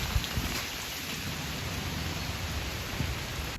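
Steady outdoor rain falls in a continuous broadband hiss, with a few soft low thumps from drops striking nearby surfaces; no voices.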